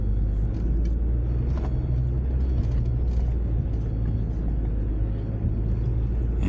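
Off-road vehicle crawling slowly up a wet, sandy desert track past dug-out holes, a steady low engine rumble with droning, continuous loudness throughout.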